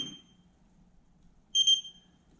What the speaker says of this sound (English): It's probably going to beep at me because it's not unlocked.